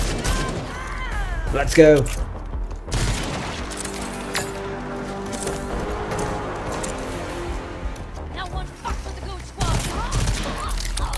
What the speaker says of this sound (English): The gun is actually super powerful as well.